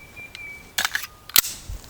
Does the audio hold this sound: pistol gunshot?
yes